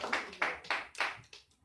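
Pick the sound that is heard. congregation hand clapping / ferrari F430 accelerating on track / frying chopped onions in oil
congregation hand clapping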